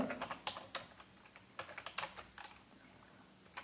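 Fingers typing on a computer keyboard while entering data into an Excel spreadsheet, quick irregular clicks of keys close by and fairly quiet, no talk.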